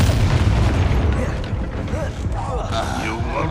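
A Bombarda spell explosion in the video game Hogwarts Legacy roars loudly and steadily, a thick booming blast mixed with creaking, mechanical debris sounds and a faint vocal-like strain toward the end.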